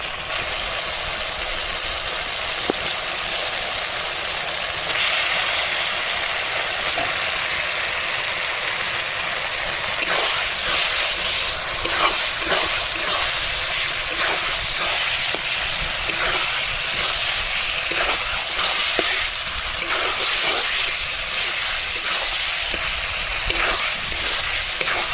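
Washed chicken goes into a pan of fried spice paste for chicken curry, and a steady loud sizzle swells partway through, with scattered stirring clatters and crackles over the continuous frying hiss, close by.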